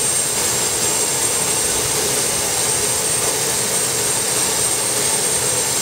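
An airplane's jet engines run on a polar ice runway, a loud steady roar with a constant high whine on top, unbroken for the whole stretch and with no talk.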